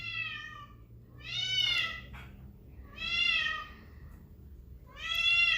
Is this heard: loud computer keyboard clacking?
no